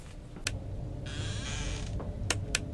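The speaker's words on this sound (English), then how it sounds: "I'm scared opening this door." A door creaks open in a Roblox Five Nights at Freddy's horror game, with a drawn-out grinding creak lasting about a second, framed by a few sharp clicks over a low droning background.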